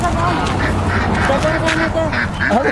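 Ducks and geese on a mango farm keep up repeated quacking and honking calls throughout, close and fairly loud, blended with a busy outdoor background.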